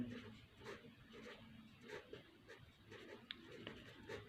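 Pen writing on paper while working through a maths exercise, soft continuous scratching strokes close up and quiet, with no talk over it.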